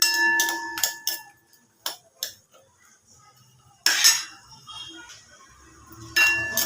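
Pistachios are tipped into a pan of ghee with a series of hard clattering and clinking bursts, separated by quieter gaps with occasional single taps of a metal utensil. No one speaks.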